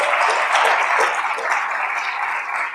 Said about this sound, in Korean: 우리 모두 VIP라고 생각하고 다 같이 박수 한번 치겠습니다